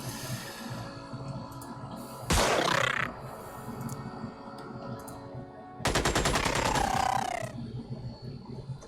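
Gunfire in Xenonauts: two loud bursts of rapid automatic shots, the second longer with a clear rattling rhythm, over quiet game ambience.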